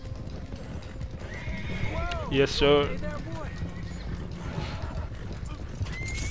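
Horse hooves clip-clop at a trot alongside a horse's whinny in Red Dead Redemption 2, with a man's brief spoken reply over the steady hoofbeats.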